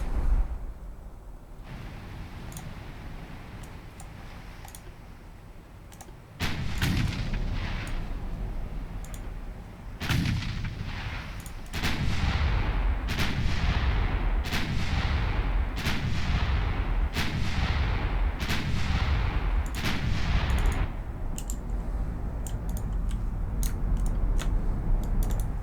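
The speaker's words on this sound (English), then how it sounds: "just firing on the nearest ship at the moment" Warship guns fire in the naval battle game Ultimate Admiral Dreadnoughts. About a dozen heavy, booming salvos land in an irregular rhythm over a constant loud rumble of background noise.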